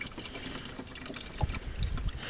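Coolant pours into the coolant reservoir of a 2001 junkyard car, a steady close stream of liquid that turns into heavier gurgling glugs toward the end, with no talking.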